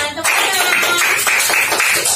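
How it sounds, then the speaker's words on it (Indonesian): Third-grade classroom clapping with fingers in a strong-and-weak pattern during a micro-teaching lesson: a series of about eight sharp, loud claps in a quick, even rhythm, close by. "tepuk jari 2, jari 3, jari 4, tepuk jari 5, sudah bunyi semua"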